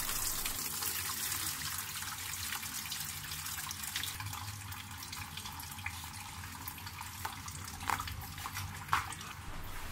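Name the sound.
coolant draining from a Toyota Avanza radiator into a bucket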